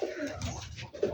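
Black Rajshahi Giribaz pigeons cooing softly in a loft, a low throaty burble close by with a brief louder coo near the end.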